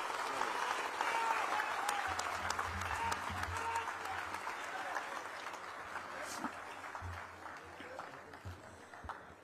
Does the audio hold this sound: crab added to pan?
no